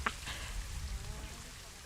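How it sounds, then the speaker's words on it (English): Steady, faint hiss of rain falling across the landscape in the zoo-building game Planet Zoo, a soft continuous wash with a brief brighter patter at the start. "Do you not shelter when it's raining?"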